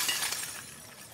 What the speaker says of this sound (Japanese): ガラス破って入ればいいのかな。